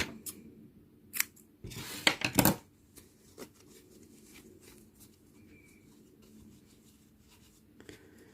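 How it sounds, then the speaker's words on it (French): Scissors snip crochet yarn for a Christmas cat headband, a few quick close cuts clustered together, with faint handling sounds and a brief bird-like chirp in a quiet room. "Et je coupe le fil."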